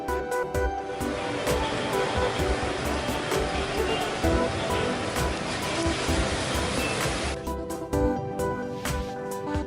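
A coffee bean roasting machine runs with a steady, loud whooshing roar, roasting about 10 pounds of beans at 180 degrees for traditional Turkish coffee. The noise is continuous and close, with faint clicks and rattles throughout.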